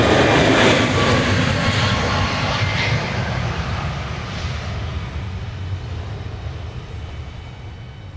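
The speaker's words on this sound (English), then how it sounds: "That was flight 121, the MAX 8 to Miami" A Boeing 737 MAX 8 jet airliner at Dallas Love Field gives a loud, broad engine roar that starts strongest and slowly fades over several seconds, with no voices.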